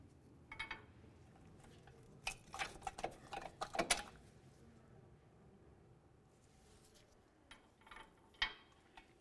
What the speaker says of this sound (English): Let's start removing those bolts.